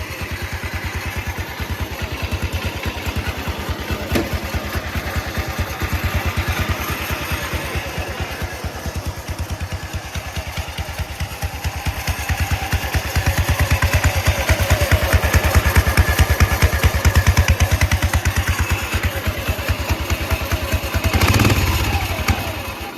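A Massey Ferguson riding lawn mower engine runs steadily near the mic with a rapid low putter and mechanical clatter. The noise swells toward the end, then comes a brief louder burst.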